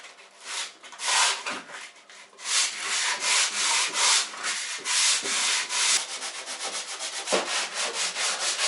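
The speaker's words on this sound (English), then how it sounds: "I'll just be here sanding away" Steady abrasive rubbing of sanding on a drywall surface, in long back-and-forth strokes with brief pauses, close and fairly loud.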